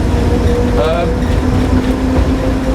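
Thin metallic squeals rise and slide over the loud, constant rumble of a moving diesel heritage train on the Sheringham to Holt Poppy Line, with voices murmuring underneath.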